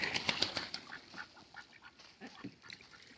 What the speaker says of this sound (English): You give ducks new water and all they do is splash it out and make it dirty again.